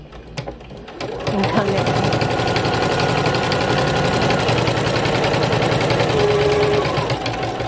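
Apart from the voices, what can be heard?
sewing machine stitching fabric postcards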